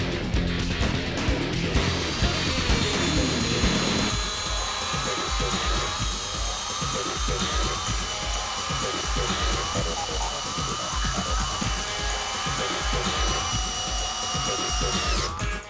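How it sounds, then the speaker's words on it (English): A Metabo cordless drill drives a 12-inch screw into a piece of poplar, a steady high whirring motor whine sustained for many seconds with faint creaking and grinding under it, close and continuous. "I'm going to run this 12-inch screw into a piece of poplar."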